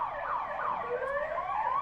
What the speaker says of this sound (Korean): 앰뷸런스가 굉장히 많이 지나가네요